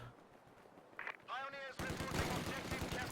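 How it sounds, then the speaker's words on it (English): Machine gun bursts in Company of Heroes 2 during a 1v1 match, starting with quiet battlefield ambience, then a short tonal cue, followed by loud dense rapid gunfire that carries on to the end. "He's playing aggressive with this MG."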